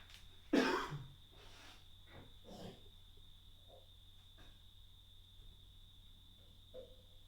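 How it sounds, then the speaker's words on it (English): A single loud cough-like throat clear near the start, followed by a couple of softer rasps and quiet room tone. "let me clear my throat."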